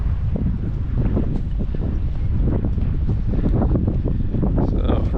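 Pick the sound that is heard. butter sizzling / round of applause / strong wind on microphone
strong wind on microphone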